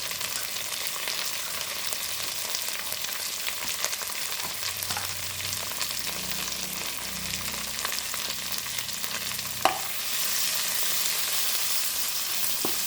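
Onions fry with ginger-garlic paste and turmeric for a dry bitter gourd curry, a steady close sizzle and crackle in hot oil with occasional stirring scrapes and a brief clink, no talking.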